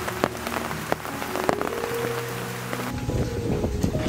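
Steady rain falls on the Sinharaja rainforest at Deniyaya, Sri Lanka, a dense, continuous patter close by, with a faint high tone entering toward the end.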